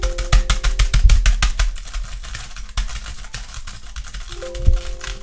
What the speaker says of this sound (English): I'm clicking my keyboard.